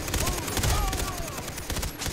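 Loud, dense automatic gunfire from a Far Cry 3 firefight pours out in rapid overlapping bursts, filling the whole stretch with constant crackling shots.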